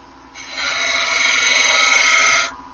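A wooden bottle opener spinning on a woodturning lathe gets its end chamfered, giving a steady, close scraping rasp of about two seconds that starts and stops cleanly over a low motor hum.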